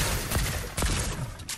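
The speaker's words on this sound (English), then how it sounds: "I shot him for 42" Rapid bursts of gunfire in a battle royale shooter, two loud volleys about half a second apart followed by a fainter crack, set against a steady game background.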